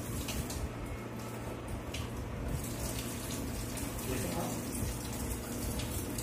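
Water runs steadily from a commercial 22-plate hydrogen drinking water ionization machine, a constant splashing flow that continues without a break throughout.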